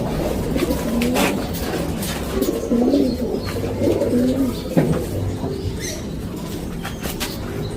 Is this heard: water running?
no